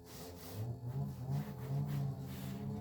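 A car engine revs as it passes by outside, a faint mid-pitched rising and falling growl lasting a few seconds behind the quiet indoor setting.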